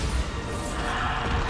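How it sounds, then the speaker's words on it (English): A Bombarda spell blast in Hogwarts Legacy erupts as a loud, dense crashing roar that fills the whole moment without a break. "I guess I just need to shoot him. Bombarder."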